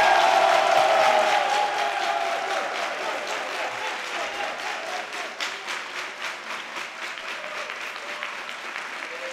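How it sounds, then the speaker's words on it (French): Audience applause at a family celebration for a certificate of primary studies, a full crowd clapping and briefly cheering, loud at first then easing into steadier, sparser claps. "On va l'applaudir."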